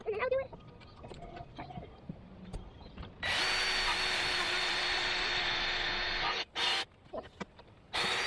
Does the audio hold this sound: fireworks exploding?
no